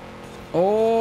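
Engine of a car in Forza Horizon 5 driving off-road, quiet at first, then a steady harmonic engine drone rising in pitch as it accelerates, loud and alone without talk.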